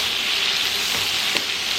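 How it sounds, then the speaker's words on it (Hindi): Vegetables frying in a pan, set to go with salmon in garlic lime butter, give a steady close sizzle with one sharp scrape of the stirring spoon near the end; no voices. "इसको बीच बीच में हिलाते जाएं"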